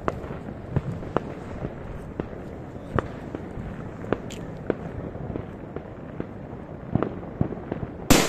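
New Year's midnight fireworks and firecrackers go off around, a steady crackling bed punctuated by repeated sharp bangs at irregular intervals, some close and loud, with a strong blast at the very end.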